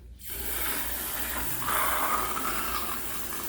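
Steady running water pours into an aquarium filter, a continuous gushing hiss that brightens slightly partway through, with no voices.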